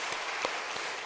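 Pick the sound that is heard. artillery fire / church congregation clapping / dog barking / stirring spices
church congregation clapping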